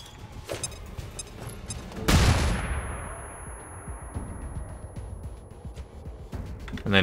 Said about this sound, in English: So, flashbang on this guy.